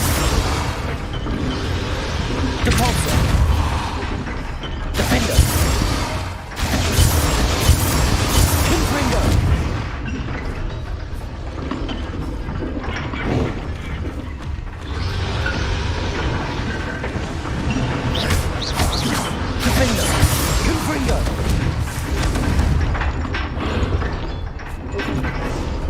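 In Hogwarts Legacy, fiery Confringo spell blasts go off again and again as loud booms and crashing bursts over a dense, busy game soundscape, while a player keeps talking over the action.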